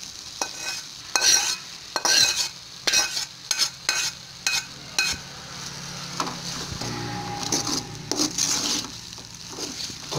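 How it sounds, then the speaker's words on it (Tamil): Egg being stirred into vermicelli upma in a hot pan: a run of loud scraping, clattering stirs over a continuous sizzle, close up with no voices. "இது கூட போட்டு மிக்ஸ் பண்ணி கிளறிக்கலாம்"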